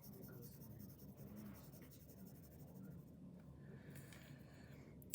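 A pencil shades steadily on paper, a soft continuous scratching with gentle rhythmic strokes, close and quiet, ending in a sharp click.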